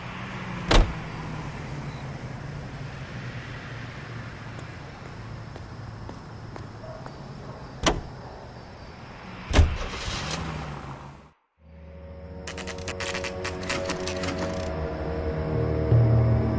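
Car in the LA Noire video game: a steady low engine hum with a few sharp door-like thumps, a brief cut to silence, then a busier mix of motor tones and clatter resumes.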